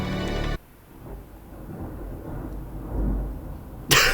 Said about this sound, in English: this thunderstorm might be a bit annoying